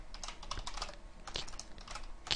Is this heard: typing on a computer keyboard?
yes